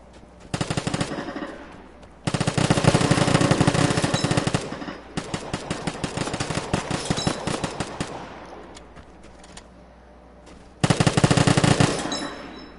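Gunfire in the video game Vigor, loud close bursts of rapid automatic shots in several separate volleys with short silent gaps between them, the firing standing alone with no voices.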